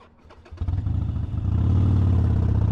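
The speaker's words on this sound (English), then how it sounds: "that might have been the first time I actually stalled the Harley" Harley motorcycle engine turning over and catching, choppy low pulses building quickly into a loud, close, throbbing rumble, with no one talking.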